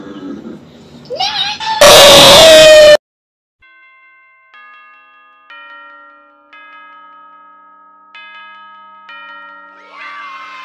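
A Minecraft animated character lets out a loud, piercing scream lasting about a second, then a sequence of soft chime-like tones, like a clock striking, plays in near silence.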